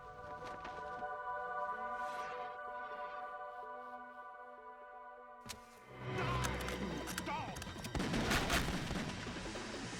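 Gunfire in Metal Gear Solid 2 breaks through a quiet tonal game soundtrack with a single sharp report, then a dense stretch of louder, crackling shots and impacts.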